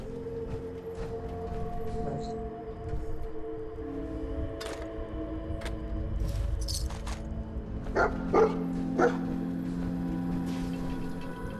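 Dog barking and yipping in the Fallout 4 video game's Far Harbor expansion, a few short barks and whimpers near the end over a low game ambience hum.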